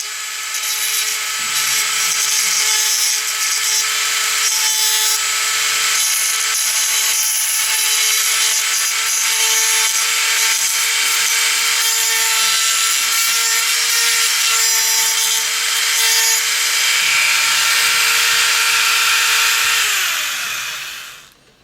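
A Dremel rotary tool grinds continuously for about twenty seconds during a model train decoder installation, a loud, close, high-pitched whine that stays fairly steady, then winds down at the end.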